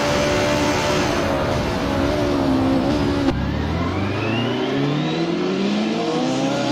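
BMW touring car engine in a 90s touring car racing sim at the Norisring, revving hard at high pitch before a sharp downshift, then climbing steadily through the gears, loud and close with no talk.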